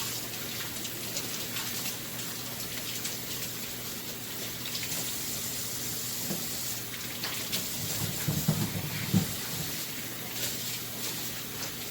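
Tap water runs over sweet potatoes as they are washed, a steady soft hiss of flowing water with a few louder splashes near the end.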